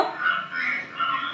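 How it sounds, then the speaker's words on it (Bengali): Frog croaking in a short run of rapid, rasping pulses, close and clear, with no talk over it. "তাহলে দেখো তো ব্যাঙের ডাক কেমন।"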